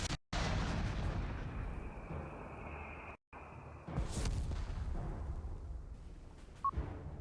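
Rocket launches and explosions from a Panzerschreck anti-tank weapon in a World War II strategy game, booming in a dense battle din with a short break mid-way and a brief sharp pop near the end.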